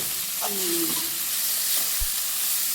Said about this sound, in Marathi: त्यांच्यासाठी स्पेशल मिरची तळणार आहे